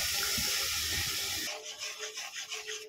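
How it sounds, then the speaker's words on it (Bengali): Water poured onto sugar for a mango pickle syrup, a loud rushing pour that cuts off abruptly, followed by quieter sloshing and rubbing sounds in the vessel. "এক কাপের 1 কাপ জল দিয়ে দেবো।"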